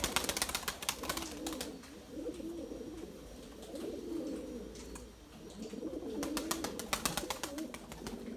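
Pigeons coo in soft rolling phrases, several overlapping calls rising and fading in waves, with sharp ticking clatter at the start and end, moderately close and unaccompanied by talk.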